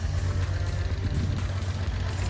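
A Nissan Skyline Hakosuka engine idles at close range after a tune-up, with a steady, even low rumble running smoothly throughout and no voices.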